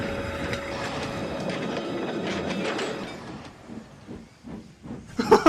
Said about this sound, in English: Is that a steam engine?